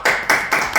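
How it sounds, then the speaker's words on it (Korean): A few sharp claps, four quick bursts in under a second, from a small group welcoming two interview guests at a civil service preparation class of a school for the blind in Daejeon. "은영성님과 김경택님을 박수로 한번 맞이해보도록 하겠습니다"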